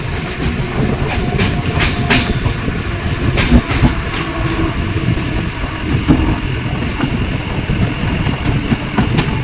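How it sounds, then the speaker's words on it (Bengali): A train pulling into Birati station sounds close and loud, its wheels clattering rhythmically over the rails in a continuous rumble with no talk. "ট্রেন এখন বিরাটি ঢুকছে।"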